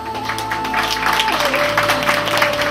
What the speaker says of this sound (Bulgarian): Нека да го подкрепим с аплодисменти.